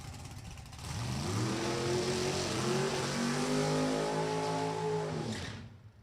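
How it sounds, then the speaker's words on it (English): NHRA Lucas Oil drag racing cars doing burnouts at Virginia Motorsports Park, a loud, close, high-revving engine roar that rises in pitch and holds for about five seconds before cutting off. "So burnouts are complete."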